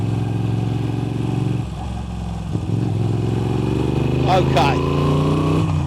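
A Moto Guzzi V7 Stone with loud upgraded exhaust pipes rumbles close by, its deep engine tone dipping and then rising as it revs and accelerates. Someone speaks briefly over it.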